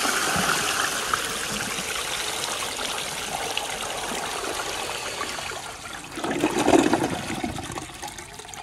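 A 1920 Standard ejecto toilet flushes, a loud rushing gush of water draining steadily, then a brief surge and gurgle near the end; close and alone, with no voices.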